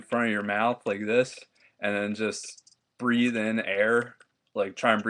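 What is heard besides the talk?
No distinct noise like a dog, phone or traffic.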